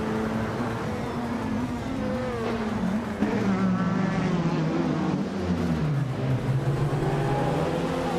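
Race cars in a video game, including an Oreca 07 Acura LMP2 prototype, launching from the start at Eastern Creek, with a loud, continuous engine roar and rising pitch sweeps as the pack accelerates together.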